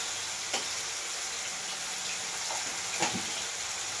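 Spices frying in a pan with ginger-garlic paste, cumin and turmeric for chicken bora curry, a steady faint sizzle with a couple of soft clinks, heard alone.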